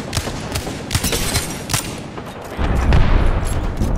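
Apex Legends gunfire crackles in rapid bursts of sharp shots, loud and close, with a heavier, denser barrage in the second half.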